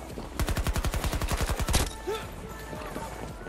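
Rapid automatic gunfire in Battlefield 2042, a burst of about sixteen evenly spaced close shots lasting under two seconds, then quieter background noise.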